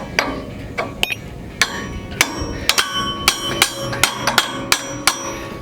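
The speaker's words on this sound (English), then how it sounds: "that's where the 2 to 3 pound hammer is a little nicer because you can swing it sideways" A hammer strikes a metal ripper tooth cap on a skid steer land plane again and again, sharp ringing clanks in an uneven rhythm, some spaced out and some in quick succession, loud and close.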